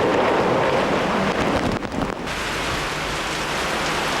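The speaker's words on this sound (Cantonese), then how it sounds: "風神襲港，到處都橫風橫雨。" Typhoon Fung-wong in Hong Kong brings heavy rain and gusting wind, heard as a dense, loud roar with wind buffeting the microphone and a brief lull midway.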